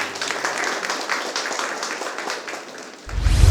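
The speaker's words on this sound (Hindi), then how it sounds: "एक बार सभी जिन्होंने जवाब दिया उनके लिए जोरदार तालियां होनी चाहिए।" Audience applause at a Buddha Vihar gathering in Nagpur during a quiz show, a dense steady patter of many hands clapping throughout, with a low rumble rising near the end.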